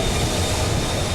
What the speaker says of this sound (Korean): 다소 독특한 모습을 한 열차가 순천역에 들어옵니다.